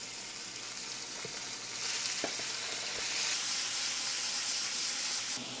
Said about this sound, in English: And then throw the chicken on there.